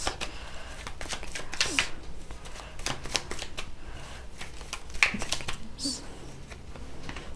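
Tarot cards are shuffled and drawn close by, a rapid riffling and flicking of card stock in repeated bursts with a few sharp snaps, under quiet intermittent talk.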